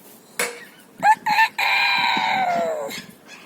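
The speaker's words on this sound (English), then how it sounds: "You can see the cockerel and the chickens." A white rooster lets out a loud, drawn-out crow close by, preceded by a few short clucks and squawks from chickens, including a brown hen.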